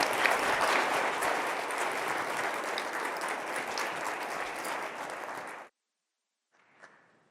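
A school honor society ceremony audience applauds in a full, even wash of clapping that cuts off abruptly after about five and a half seconds, followed by near silence and a brief faint sound.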